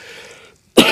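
A single sharp cough from someone at the end of a cold bursts out at the end, following a brief stretch of faint background hum and a moment of near silence.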